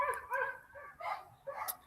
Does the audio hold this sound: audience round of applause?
no